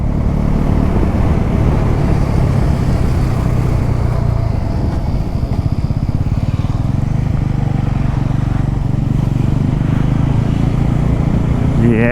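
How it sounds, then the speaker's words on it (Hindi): A scooter riding along a road, a continuous low engine drone mixed with rushing wind noise that holds steady throughout, loud and close. "और ये स्कूटी जा रही है"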